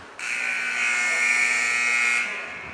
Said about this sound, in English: There's the drop, and there's the buzzer.